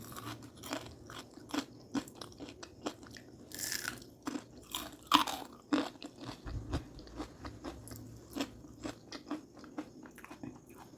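Crunchy bites and chewing on a crispy, freshly fried homemade vada made from urad dal batter, with repeated sharp crunches over about ten seconds, close and fairly quiet, with no talking.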